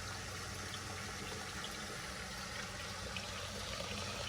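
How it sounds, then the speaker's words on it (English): Steady rushing roar of a waterfall near a lakeside house by the beach, a dense, even wash of water noise that runs unbroken throughout with no voices. "You can see, you can hear the waterfall."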